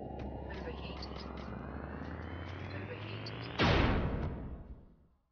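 A gun volley fires in the Roblox game Overheat. A rising whine builds over a steady rumble, then a loud burst of blasts hits and fades away.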